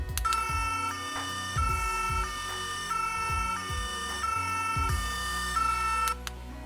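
A Playmobil toy ambulance plays a synthetic electronic siren, a steady cycling two-tone wail with a repeating beat pattern running underneath. It is fairly faint and fills the whole clip, then cuts off near the end.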